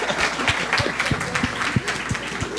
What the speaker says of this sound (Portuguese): Levantem os 2 para receber os aplausos